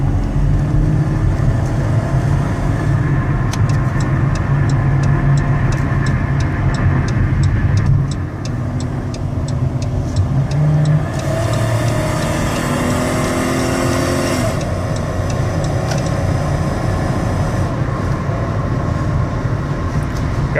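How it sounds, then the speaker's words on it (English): A 2016 Dodge Caravan SE wheelchair mobility van with 51K miles accelerating toward highway speed, heard from inside as a steady, loud engine and road drone with tire rumble that shifts in tone partway through. "I'm going to get it up to highway speeds, and then we're going to set our cruise control"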